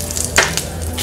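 Spices sizzling and crackling in hot mustard oil as asafoetida is added, a steady frying hiss with a couple of sharper bursts as something hits the pan.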